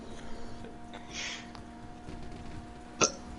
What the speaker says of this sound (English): Wow, nice Rick and Morty burp.